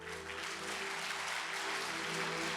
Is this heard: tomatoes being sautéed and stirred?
no